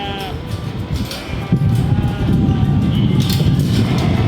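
Sheep out on a homestead pasture bleat repeatedly at fairly close range over a steady outdoor background, with several overlapping calls throughout.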